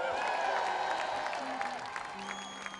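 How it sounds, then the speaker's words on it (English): A crowd at an outdoor gathering in Ballina, Ireland applauds and cheers for the Chieftains. The clapping is moderately loud and fading, and a voice talks over it toward the end. "a big round of applause again for the wonderful chieftains"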